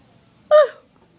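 A single short, voiced burp from a person, loud and close, lasting about a quarter second against a quiet background.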